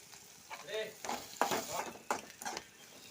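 Ivy gourd sautés in a pan and is stirred until browning, producing a low sizzle broken by uneven scraping and clinking strokes of a spoon, faint and close with no talking.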